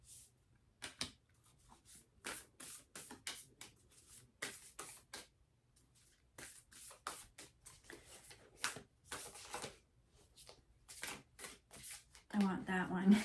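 Cards are shuffled in repeated soft riffling bursts, close and fairly quiet, with a person talking softly throughout.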